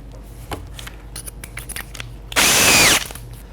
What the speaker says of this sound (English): I just drill down about 1/4 of an inch